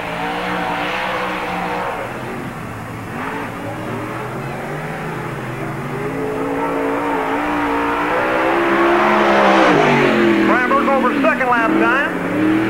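A race car on the Park Jefferson Speedway oval during a 1997 NASCAR Busch All Star Tour timed lap, its engine droning steadily and swelling louder as it nears, with a rising whine near the end and track announcing over the top.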